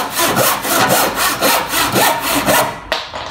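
Close, loud hand sawing through wood to cut off corners, a steady back-and-forth rasp of about a dozen strokes ending in a brief clack, with no voices.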